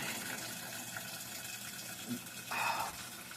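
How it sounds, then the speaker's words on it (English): Water falls faintly inside a Whirlpool WTW4816FW3 washer that fails to fill its basket, a soft steady trickle with one brief louder splash near the end. "I hear water falling, but none of it was accumulated inside the basket"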